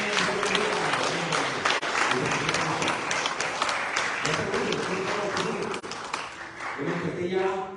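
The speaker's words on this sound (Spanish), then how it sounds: "Aplausos, hermano." A church congregation applauding in a Spanish-language service, steady clapping throughout with voices murmuring and talking over it.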